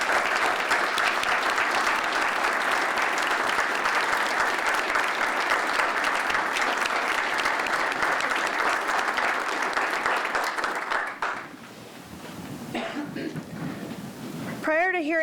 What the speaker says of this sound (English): Ladies and gentlemen, please give all of our distinguished guests a round of applause.